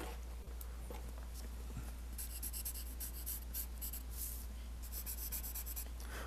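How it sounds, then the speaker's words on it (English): General's carbon sketch pencil drawn across paper during a live charcoal drawing demo, giving a steady close scratching and rubbing with brief stroke bursts over a constant low hum. "This pencil is not working on this stuff."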